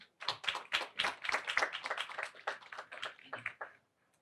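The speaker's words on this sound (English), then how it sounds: "Ladies and gentlemen, a round of applause for the Chief Operating Officer for Shaxi," An audience applauds a chief operating officer at a product launch event, a steady burst of many hands clapping that fills about four seconds and then fades out.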